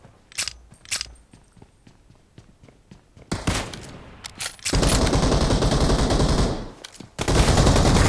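Shooting video game gunfire: a few sharp early shots and clicks, then long, loud sustained automatic bursts that fill the later half, with brief gaps between volleys and no speech.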